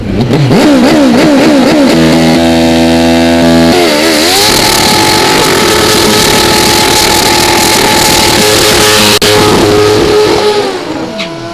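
A Prostar drag racing motorcycle launches hard down the strip, its engine screaming loud and close through rapid rising gear pulls, holding a sustained high wail before easing off at the end.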